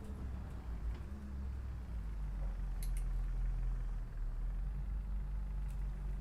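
A bus engine idles in a London bus add-on for a driving game, giving a steady, low, continuous rumble with faint clicks near the middle.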